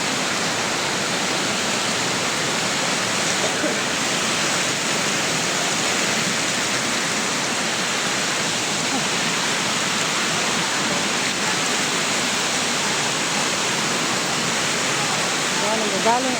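Water from the mountain rushes in a hidden garden in Ilocos, a continuous close hiss of flowing water that stays even and loud throughout.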